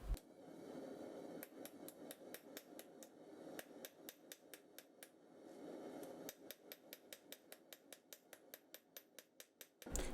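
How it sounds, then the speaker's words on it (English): Hammer striking hot steel while forging a Bowie knife blade on an anvil, a long run of sharp, ringing, evenly spaced blows, some bursts faster than others, close and clear over a background hum. "here I'm pretty much done forging it to shape"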